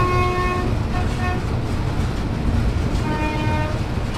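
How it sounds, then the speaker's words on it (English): WAP4 electric locomotive horn on a Shatabdi train sounding in two steady, loud tonal blasts over a dense rumble of running rail noise. "These are the horns."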